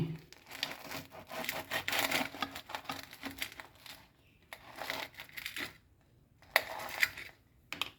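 A knife slices through crispy fried bread snacks, crisp on the outside and soft inside, giving bursts of crunching and scraping separated by short pauses, close and fairly quiet.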